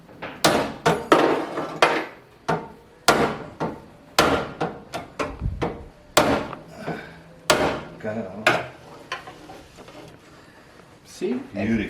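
Repeated sharp hammer blows striking the metal window winder of a 1948 Austin hot rod, fast irregular knocks close by, with a short pause near the end.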